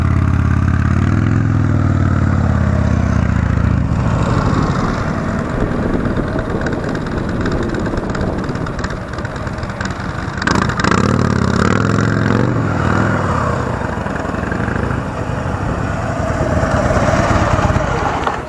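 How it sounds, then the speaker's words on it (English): Motorcycle engine held at raised revs in the friction zone while making a U-turn from a stop, a loud, close, continuous drone that swells and dips slightly over nearly twenty seconds with no speech. "I'm going to bring the revs up right in that friction zone."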